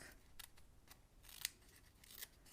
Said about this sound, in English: I'm just going to trim that with my paper snips just along the edge of the cardstock